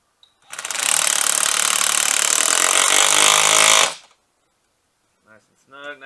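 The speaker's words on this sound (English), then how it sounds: "when you're tightening this band clamp down on the intake going into the boot" A power tool, likely an impact driver, tightens a band clamp on the intake boot of a 2017 Ford F250, one loud continuous burst of about three seconds, followed by quiet and a few faint clicks.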